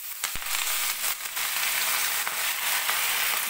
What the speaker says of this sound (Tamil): இப்போ நம்ம களி வச்சுருக்க கீரை முருங்கைக்கீரையை போட்டுக்கலாம்.